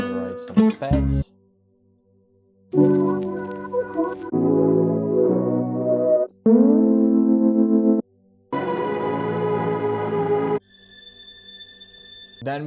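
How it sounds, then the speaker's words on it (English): Synthesizer soundscape pads for a drum and bass production play as a series of sustained tonal chords, each held for a couple of seconds and separated by brief gaps, with no voices. "So when we put here some soundscape, or you can write some pads."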